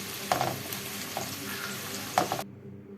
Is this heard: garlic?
yes